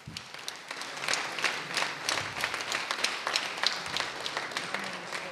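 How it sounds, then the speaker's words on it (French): Applause for Oscar Slim Kidjo, godfather of Atlantique FM, at an anniversary celebration: a steady audience clapping with dense overlapping claps, fairly close, sustained for several seconds without speech. "On l'applaudit très fort."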